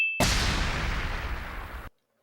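A single loud cartoon explosion erupts abruptly after a brief high tone, a broad roaring blast that decays over about a second and a half before cutting off.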